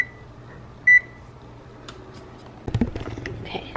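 Oven control panel gives a single short electronic beep while preheat is set, loud against a quiet room, followed by faint clicks and some soft rustling.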